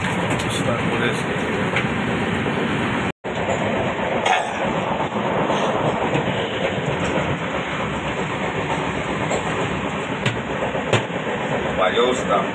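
Train running along rails at the Mahakumbh Mela in Prayagraj, a steady, loud rumble and rattle of wheels and carriages with a brief cut near the start, continuous throughout.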